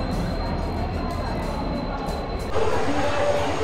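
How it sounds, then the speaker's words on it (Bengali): A passenger train pulls into a busy station platform, a steady broad rumble with a faint high whine that shifts and swells near the end, with crowd noise around it. "পুরো 7:26 ট্রেন ঢুকিয়েছে, মানে এতক্ষণ দাঁড়িয়ে থেকে 7:26 সবেমাত্র ট্রেনটা এসে প্ল্যাটফর্মে দিল"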